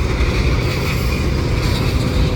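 A CN freight train led by an SD75ACC locomotive passes through Sainte Anne, a loud, close, continuous roar of rolling cars with steady rumbling wheels and no talk.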